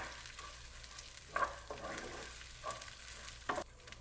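Rice frying in hot oil in a pan, a continuous close sizzle with a few brief louder crackles and stirring scrapes at irregular intervals.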